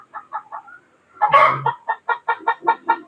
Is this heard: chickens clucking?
yes